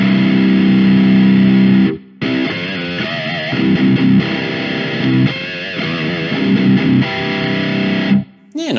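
Distorted electric guitar with extra drive through a Harley Benton DNAfx Git Pro multi-effects unit, played loud and sustained with chords and busy riffs, broken by two short pauses.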